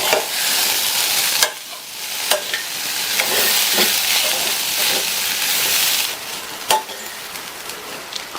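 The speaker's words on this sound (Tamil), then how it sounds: "நல்லா கலந்து விட்டுறலாம்" A spoon stirs green gram sundal with coriander leaves in a hot pan, giving a steady close sizzle with intermittent scraping knocks against the metal.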